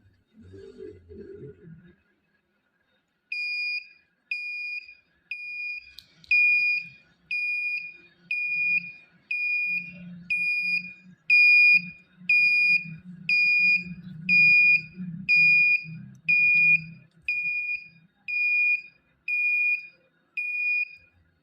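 After a brief low murmur, the shrill buzzer of an NE555 and LDR alarm circuit beeps in a steady, repeating pulse, loud and close, continuing on and on.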